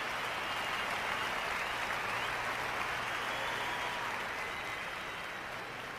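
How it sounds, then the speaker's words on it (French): Steady, dense applause from a large audience, sustained evenly throughout with no pauses. "C'est facile d'applaudir ça"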